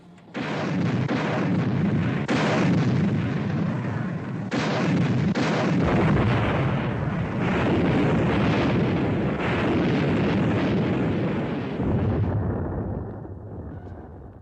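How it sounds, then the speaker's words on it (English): Depth charges in a WWII naval battle from a 1957 war film erupt in a long, loud run of booming blasts that roll into one another without a break, then ease into a lower rumble near the end. "set depth charges to 100"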